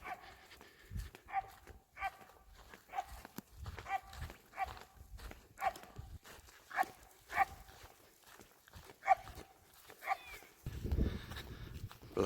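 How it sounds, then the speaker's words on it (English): A dog barks relentlessly out in a farm field, with a steady run of sharp single barks roughly every half second, moderately distant and faint, and occasional low rustling underneath. "And Anubis has been barking non-stop for a good 12 hours."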